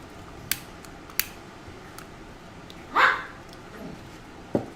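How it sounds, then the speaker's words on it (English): A small dog gives a single short bark at a moderate distance, set among a few sharp clicks and a quiet room background, with no talk. "If you hear a dog"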